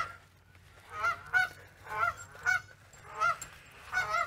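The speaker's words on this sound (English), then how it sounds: "we got some geese yelling at us, because that's what they do" Geese honk in repeated bursts of two or three calls, fairly close and clear, with quiet gaps between them and a low steady hum underneath.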